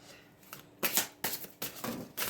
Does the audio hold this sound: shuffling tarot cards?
yes